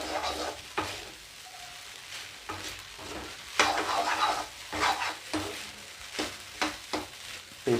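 Egg fried rice tossed in a hot pan over a high flame, finished with garam masala: a steady sizzle broken by repeated scraping, clattering stirs of a spatula against the pan, close and fairly loud with no talking.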